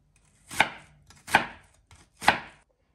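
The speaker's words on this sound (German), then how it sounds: "Bei der Größe der Zwiebelwürfel müssen wir jetzt nicht in die Millimetergärtnerei verfallen. Das können wir ruhig relativ grob schneiden." A knife coarsely chopping onions into cubes on a board, three distinct sharp chops spaced evenly about a second apart, close and clear with no talk.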